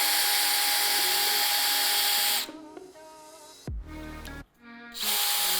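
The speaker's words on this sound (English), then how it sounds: "Just gently put on pressure and drill your hole." Power drill boring a hole in wood for a squirrel picnic table, a loud, close whine that drops and changes pitch as the bit bites, briefly cuts out, then spins up again.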